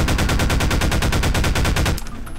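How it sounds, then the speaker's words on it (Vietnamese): Rapid automatic gunfire rattles in a fast, even burst of about twenty shots during a video game battle against Siren Head, loud and close, ending sharply with a brief faint tail. "Bắn nó luôn."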